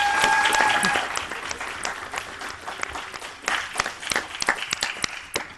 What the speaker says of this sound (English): Now we should applaud.